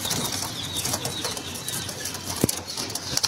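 A pigeon's wings flap in a quick fluttering rush close by, over a steady background hiss, with a sharp thump near the end.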